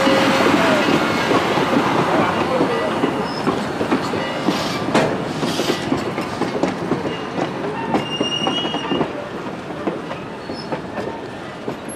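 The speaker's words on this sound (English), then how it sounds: "It's a restored steam locomotive. As it rounds the curve, we get to see the rest of the consist." A restored steam locomotive hauls its train around a curve, making a steady, loud rumble of rolling cars with clickety-clack wheel beats and occasional faint wheel squeal, close by and continuous with no talking.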